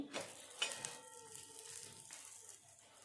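Bottle gourd thalipeeth roasts on a pan, second side down, giving a faint, soft hiss with a few light taps at the start, then a quiet, steady crackle fading slightly, no voices.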